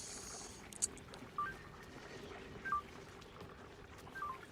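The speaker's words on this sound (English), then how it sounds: "And I forgot to turn my phone off again." A mobile phone chimes quietly during computer gameplay, giving a few short, faint electronic notes spaced over several seconds against a low background hum.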